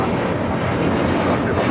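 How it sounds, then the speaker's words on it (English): An Alaska Airlines Boeing 737-900ER takes off from LAX, its engines a brief, loud, steady jet rumble. "This is Alaska Airlines 1430 taking off to Puerto Vallarta on a 737-900ER"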